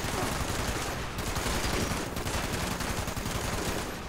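Dense, continuous gunfire from the video game Fallout 76, a steady loud barrage of rapid shots with no gaps and no talk.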